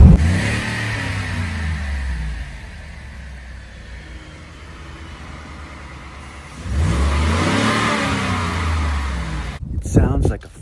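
A 2020 Ford F-150 with a 5.0 V8, Magnaflow exhaust and Airaid intake tube revs: a low engine rumble holds, eases off, then swells again as it climbs, close and fairly loud.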